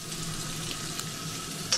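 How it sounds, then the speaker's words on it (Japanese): Bacon and shiitake mushroom stems fry in oil in a wok, a close, steady sizzle with a brief clatter near the end. "油でベーコンと椎茸のもう茎みたいなの焼いただけでもう超うまそうや"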